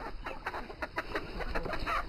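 A backyard flock of chickens, hens and roosters, clucks in a busy overlapping chorus of short repeated calls, fairly close and steady, with no talking.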